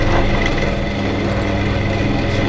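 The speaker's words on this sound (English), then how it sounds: "So I should have turned the lathe speed down to start with." A wood lathe spinning too fast with an off-balance necklace pendant blank, giving a loud, continuous motor whine and dense vibrating rumble that holds steady throughout.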